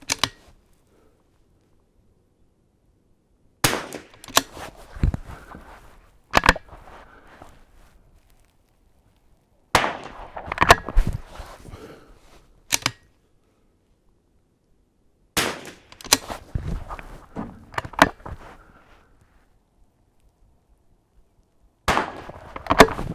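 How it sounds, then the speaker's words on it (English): Sharp rifle shots on an NRL22 rimfire course, several loud cracks spaced a few seconds apart, with bolt clatter and handling noise following each shot, no talking. "I wasn't stable when I took that shot"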